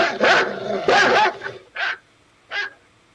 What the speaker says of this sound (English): Lester's barking again and getting on my nerves again